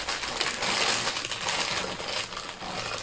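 Small rusty metal gear embellishments for mixed media crafting are handled and shuffled together, giving a continuous soft clinking and rattling at close range.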